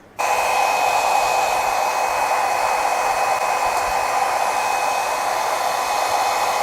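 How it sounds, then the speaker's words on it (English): A hair dryer switches on and blows with a loud, steady whine and rush of air, running continuously without a break. "So I'm gonna go in now with my blow dryer."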